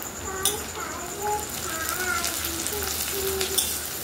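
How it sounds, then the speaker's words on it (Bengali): Ginger garlic paste with green chillies sizzles and fries in hot oil, a steady close hiss with scraping stirs, while faint children's voices and birds sound in the background. "এটাকে একটু ভালো করে তেলের সঙ্গে কষিয়ে নেব যতক্ষণ না গন্ধটা যায়"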